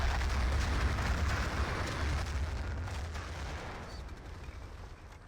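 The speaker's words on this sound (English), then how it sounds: "It looks like we're going to have both artilleries land here." Artillery lands in the video game Battlefield 2, with heavy booming impacts and crackling gunfire rumbling at a distance, slowly dying away into quieter debris and echo, with no talking.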